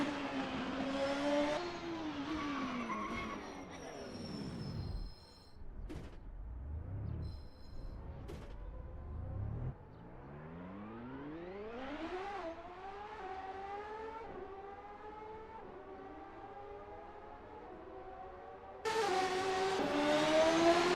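Race cars warming up at Long Beach, 1999 CART, engines revving up and down in long rising and falling whines, one car accelerating through the gears, then a louder roar bursting in at the end.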